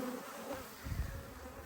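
A dense, steady buzzing of many honeybees, close and continuous, with a faint low thump partway through.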